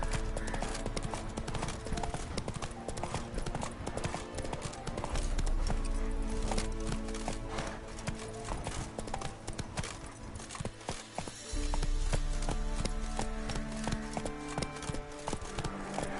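Hooves clip-clop in a fast, steady rhythm as a horse gallops in the video game The Witcher 3, close and continuous over a low bed of game ambience.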